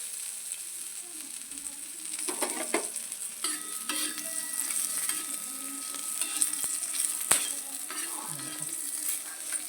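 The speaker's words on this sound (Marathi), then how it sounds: "छान मिरच्या भाजून घेतलेला आहे मी." Green chilies fry and get stirred on a hot pan, a steady soft sizzle running throughout with occasional scraping and stirring clinks, close and moderately loud, no talking.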